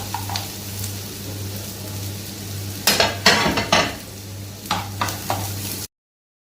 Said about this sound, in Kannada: ಇವಾಗ ಆನಿಯನ್ ಫ್ರೈ ಆಗ್ತಾ ಇರುವಾಗ ನಾನು ಜಜ್ಜಿಟ್ಟಂತಹ ಜಿಂಜರನ್ನು ಸಹ ಸೇರಿಸ್ತೇನೆ